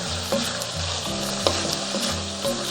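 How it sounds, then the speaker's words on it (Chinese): Sauce sizzling and being stir-fried in a hot wok, a steady loud frying hiss with repeated scraping strokes of the spatula throughout, no voices. "再炒半分钟，炒出这个酱香味"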